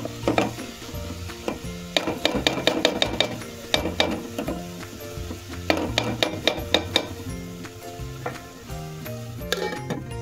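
A spoon scrapes and knocks rhythmically against a pan as grated coconut is stirred with jaggery into a naru filling, with quick bursts of clattering strokes under a low sizzle and steady background music.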